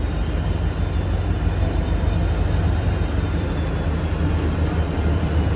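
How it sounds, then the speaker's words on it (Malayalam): WDP 4D diesel locomotive approaching, a steady loud rumble with a continuous low drone and faint high whine, no voices. "WDP 4D ആണ് ലോക്കോമോട്ടീവ് വരുന്നത്"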